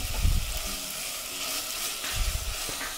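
Chopped onion frying in hot ghee for restaurant-style dal tadka, a steady soft sizzle with a few low stirring bumps, fairly quiet and close, no talk.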